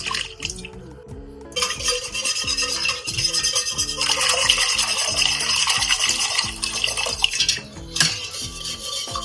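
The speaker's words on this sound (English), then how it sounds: "Keep mixing so that no lumps are formed, and if you want, you can use a whisk also." A whisk beating water into a Sindhi kadhi mixture, a rapid continuous rattle of metal against a bowl, close, with a brief pause near the start and another near the end.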